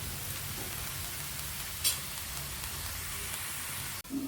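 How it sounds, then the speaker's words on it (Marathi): Onion sizzling in a pan of oil for a village-style chicken rassa, a soft, even crackling hiss heard close, with a brief clink partway through and a sharp knock just before the end. "कांदा टाकलाय बघा परतायला, चांगला परतू द्यायचा कांदा"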